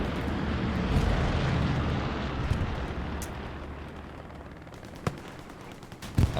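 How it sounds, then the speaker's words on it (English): Machine guns fire in a large-scale WWII-style online game scrim, with distant continuous gunfire and rumbling explosions under a dense battle din, and a few sharper nearby cracks near the end. "Doing everything they can to stay alive with both MGs firing kind of wildly."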